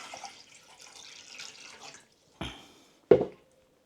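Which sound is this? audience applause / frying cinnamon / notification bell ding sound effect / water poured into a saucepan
water poured into a saucepan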